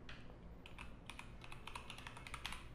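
Quiet, close-up typing on a computer keyboard, a quick irregular run of light key clicks over a soft background hiss, with no voices.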